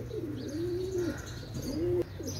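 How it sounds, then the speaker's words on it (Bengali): An imported Imamdin cock pigeon coos close by in repeated rising and falling phrases, two main calls with soft chirps between them, against a low background hum. "এটাও ইম্পোর্ট গ্রুপের কবুতর"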